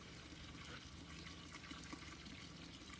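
Water fills a cooking pot for chicken adobo, a faint, steady splashing and trickling rush heard close by, with no talking over it.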